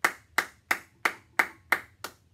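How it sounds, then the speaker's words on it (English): Seven crisp single hand claps at a steady, even tempo, close and clean with quiet gaps between each, demonstrating a basic rhythm beat. "But also, it could be just a clap"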